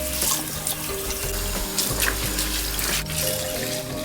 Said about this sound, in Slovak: Po odstránení hrubej špiny najprv preperieme čistík so tečúcou vodou.